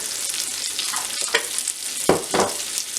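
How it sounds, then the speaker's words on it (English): Steady sizzling of food sautéing in a hot pan, with a few louder stirring scrapes near the end. "And while that's sauteing up"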